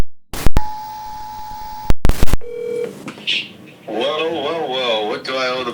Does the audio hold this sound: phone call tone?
yes